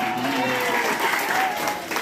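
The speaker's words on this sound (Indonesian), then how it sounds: "tepuk tangan lagi" Students at Dharma Patra private junior high school in Aceh Tamiang clap during a traffic safety talk: a brief, steady patter of applause from a crowd, with voices mixed in throughout.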